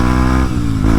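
A 2025 Kawasaki Z900 engine hums steadily, then briefly dips twice as gears change, close and loud with no talk.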